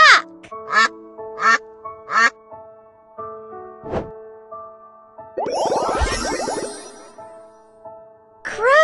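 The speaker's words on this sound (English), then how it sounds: "What is this? Duck!" A duck quacks in a short series of loud, nasal calls, then a longer burst of rapid chattering quacks, with a few more calls at the end.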